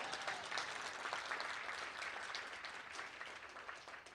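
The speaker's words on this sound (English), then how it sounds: "Go ahead and clap." An audience claps steadily for a newly introduced professor and prize winner at a college welcome event, a dense wash of many hands throughout, with no talking.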